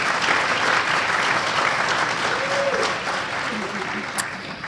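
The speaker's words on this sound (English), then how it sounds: "Let's give them a round of applause" Steady applause from diners at an elementary school parent dinner, honoring student servers, with crowd murmur and a little talk mixed in as it tapers off.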